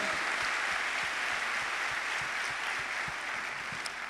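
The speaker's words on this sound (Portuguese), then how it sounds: "aplaudam o Senhor" A church congregation applauds during a Portuguese-language worship service, dense steady clapping from many hands filling the room at an even, sustained level throughout, with no talk over it.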